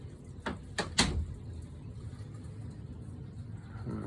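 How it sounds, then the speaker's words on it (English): A door in an indoor turtle room is pulled shut with two or three quick knocks and a final thud close by, then a low steady room hum continues. "Just gonna shut this door so you can"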